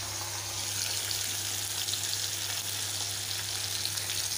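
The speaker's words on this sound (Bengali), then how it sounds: "পেঁয়াজটা আর রসুনটা একসঙ্গে দিয়ে দেবো" Onion and garlic frying together in a wok with kalonji seeds, giving a steady, even sizzle with a low hum underneath, no voices.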